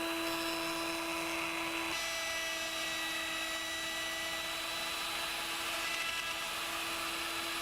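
A woodworking cutter head whines steadily as it shapes a small curved moulding piece for a traditional queen bed, a loud continuous machine tone with a slight pitch change partway through and no talking.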